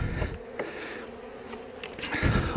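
Honey bees buzz steadily around an open hive during a fall inspection, a dense close drone with small bursts and shifts as frames are handled.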